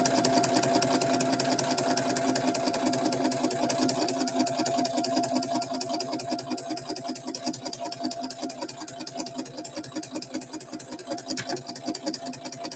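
A sewing machine running steadily while top stitching, a loud, fast, even mechanical whirr with rapid needle ticks that holds for the whole stretch and eases slightly toward the end.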